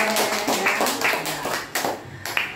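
A small audience at a school presentation gives a short burst of scattered hand clapping nearby.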